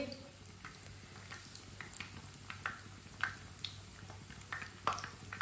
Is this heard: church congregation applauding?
no